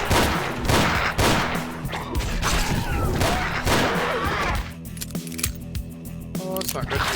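Rapid gunfire and crashing impacts from a retro Doom-style shooter, Ashes 2063, burst after burst with metallic clatter, loud and close, with someone talking over the action.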